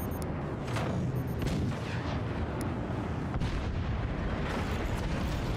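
Modded super weapons in the game Forts pound the same spot over and over, a continuous roar of booming artillery blasts and explosions with sharp cracks punching through a thick, rumbling barrage.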